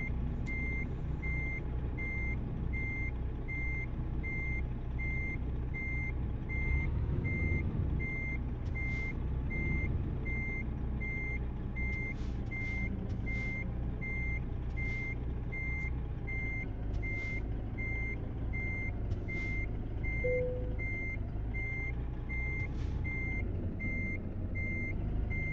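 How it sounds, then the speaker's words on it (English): A truck's reversing beeper in American Truck Simulator chirps in a steady, evenly spaced rhythm over a low, constant engine rumble, turned down but still clearly heard throughout. "I have that beeper turned down, and it's still annoying."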